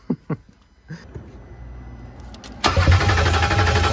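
A heavily damaged Range Rover turns over with a few cranking clicks after a battery boost, then catches and roars into a loud, steady running engine, close by.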